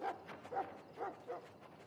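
A dog in the Dragon Age Origins video game makes a weak growl. It comes as a few soft, short whimpering vocal pulses, close but quiet, with no talk over them.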